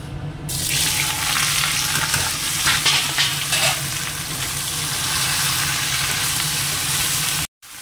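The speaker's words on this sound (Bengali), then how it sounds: "কড়াইতে তেল দিয়ে দিচ্ছি, ভেন্ডিটাকে একটু ভেজে নেব" Okra frying in hot oil in a wok, loud continuous sizzle with occasional stirring scrapes, close and steady throughout, cutting off briefly near the end.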